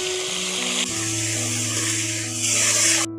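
Chopped beetroot fries with carrot in hot white oil in a kadai, giving a close, steady sizzling hiss that swells slightly near the end before cutting off.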